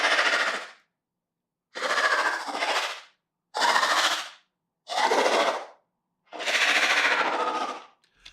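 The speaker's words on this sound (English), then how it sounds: "It really makes it sound like the monster's hissing and kind of naturally making these sounds" Processed hissing bursts of a Licker monster from Resident Evil 2, built from French bulldog breathing sounds: five loud, breathy hisses with tremolo, each about a second long and separated by short silences, with no voices.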